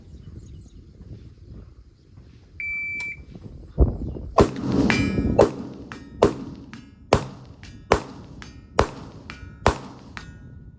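Rifle rounds from a Bulgarian AK-74 ring off a steel target about 120 yards out, about eight sharp impacts or shots spaced roughly a second apart, loud and close, after a short electronic beep.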